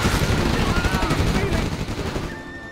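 A Command & Conquer Generals Overlord tank unleashes a dense, rapid machine-gun barrage, loud and steadily pulsing, tapering slightly toward the close as a voice briefly speaks underneath.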